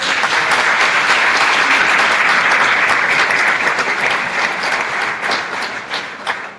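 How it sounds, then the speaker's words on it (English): An audience applauds a guest speaker at the end of a Q&A, with steady, dense clapping that holds strong for several seconds and then thins slightly toward the end. "so let's give him a round of applause."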